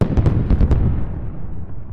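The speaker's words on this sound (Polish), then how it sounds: "Na początek zrzuciła kilka bomb atomowych na Ukrainę." Atomic bombs go off in the sandbox game Worldbox as a loud cluster of deep, booming blasts that overlap, then fade into a rumbling tail, with no talk over them.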